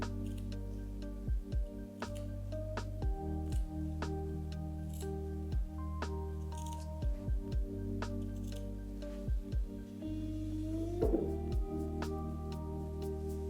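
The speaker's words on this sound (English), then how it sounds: "Make small cuts along the seam allowance of the entire armhole." Sharp scissors snip repeatedly into the fabric seam allowance around the armhole of an A-line summer dress, short close clicks in an uneven rhythm over a steady low hum, with no voices.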